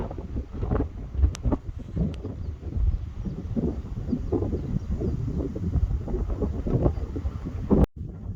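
Strong wind gusts over an exposed cliff trail at Hilina Pali in Hawaii Volcanoes National Park, buffeting the microphone with loud, continuous roaring rumble that surges and dips for the whole stretch, cut off abruptly near the end.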